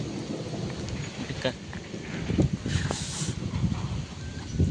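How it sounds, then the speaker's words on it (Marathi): Rain falls steadily in a Konkan village during the first heavy rain of the season, with low thunder rumbling and swelling in the middle over a constant hiss of rain. "बारीक बारीक पडताय, आम्ही भिजतोय. गडगडताय."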